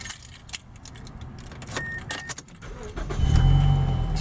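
Keys jangle in the ignition of a Mazda6 as the car is started, and a low engine rumble swells up and holds steady near the end.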